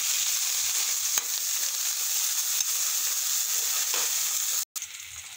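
Sesame seeds and onion sizzle steadily in a hot pan during home cooking, a continuous close frying hiss with a few faint stirring knocks and one brief break near the end.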